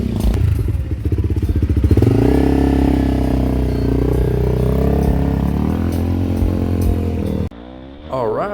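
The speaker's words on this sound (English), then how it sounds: "welcome on board on my enduro bike, which is actually a modified Honda CRF 300L" A modified Honda CRF 300L enduro dual sport motorcycle is ridden, its engine loud and close throughout, rising in pitch as it accelerates before cutting off near the end; brief rustling and buffeting follow.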